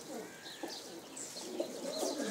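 Pet pigeons coo and chirp in soft, repeated calls at moderate distance, layered over a quiet background with no talking.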